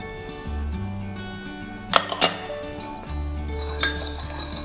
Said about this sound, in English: So now let's move on to mixing the sauces.